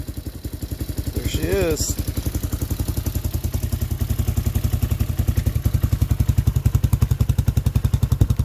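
A Tao Tao 250cc Hawk motorcycle idles close by with a steady low, even engine pulse, smooth and fairly quiet, while a voice speaks briefly near the start.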